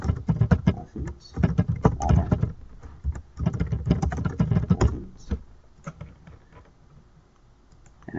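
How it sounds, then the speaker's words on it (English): Keys clatter on a computer keyboard as someone enters data into a spreadsheet, quick bursts of typing with short pauses, close and fairly quiet, trailing off toward the end. "I'll type that here."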